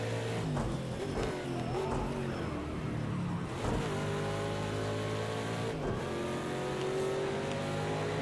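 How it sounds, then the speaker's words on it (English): Sports cars roaring past at Road America during an IMSA sports car weekend, with a steady engine drone and shifting revs as cars sweep by, occasional swells suggesting nearby passes. "got some more fast cars getting ready to roar through here"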